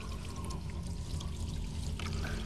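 Water pours and trickles steadily at low volume, a soft continuous liquid flow with faint splashing and no speech over it.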